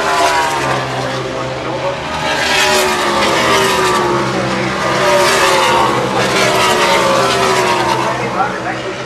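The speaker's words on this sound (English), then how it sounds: "Drivers actually coming around to complete their first lap in this session." NASCAR Cup Series stock cars at speed during practice at Watkins Glen, engines roaring loudly and steadily with pitch sweeps as cars pass, under continuous commentary.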